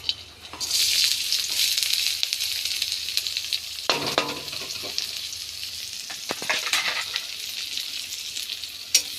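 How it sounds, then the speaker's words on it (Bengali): Chopped ginger, green chilli and curry leaves frying in hot oil, a loud continuous sizzle with a few spatula scrapes and clatters partway through. "কারি পাতা মতো ভালো করে ভেজে নেব"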